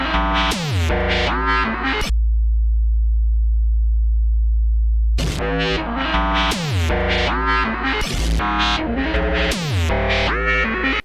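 A pure sine wave heavily processed through the Devious Machines Infiltrator 2 multi-effect plugin into a rhythmic, chopped, gated pattern with harmonic bursts, broken by a few seconds of a low steady hum.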